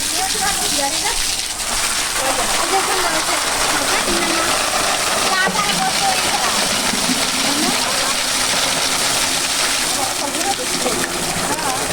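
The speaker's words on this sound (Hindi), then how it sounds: "पानी भर रहे हैं, एकदम साफ पानी आता है इधर से" Clean water gushes steadily from a spring at Paneri while containers are filled, a continuous close splashing rush with voices talking over it.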